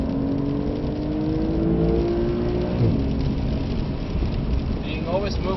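A Porsche Carrera 992 accelerates on the wet Nürburgring, its engine note rising steadily as it revs up, heard close and loud from inside the car over a constant road and spray rumble.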